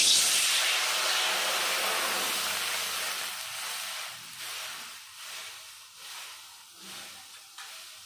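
Water poured into a hot, freshly cleaned kadai bursts into a loud, close hiss of steam that slowly fades and thins over several seconds, with no voices.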